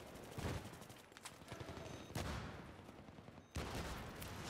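Gunfire in Battlefield 3 breaks out in repeated bursts, with rattling volleys that start abruptly, fade and resume, heard at mid distance.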